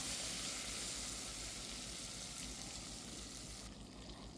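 Tomatoes frying in oil in a pan for a vegetable pulusu, giving a loud, dense, continuous sizzle close up for the whole stretch with no voices.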